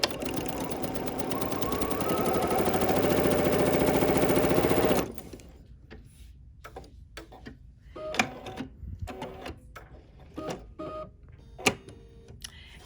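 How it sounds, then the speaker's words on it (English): A sewing machine runs steadily for about five seconds, stitching pieces of quilt fabric together, then stops, leaving scattered handling clicks and taps. "Lower my presser foot down right into position and sew."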